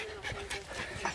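A terrier pants in quick, rhythmic breaths during ratting, close to the listener, with faint outdoor background and a voice nearby.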